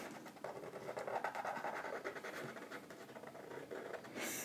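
A pen scratches across paper while drawing the cartoon octopus Hank from Finding Dory, making faint, soft, continuous strokes with small irregular ticks and no talking.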